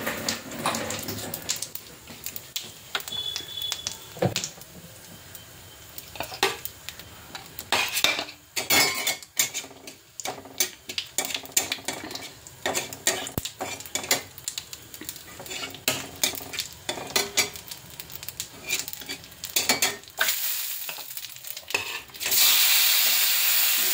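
Whole white cumin seeds cooking in a pan with a splash of water for a koi fish dish, with busy clinks and scrapes of utensils and bursts of sizzling across the stretch, louder hissing at the end.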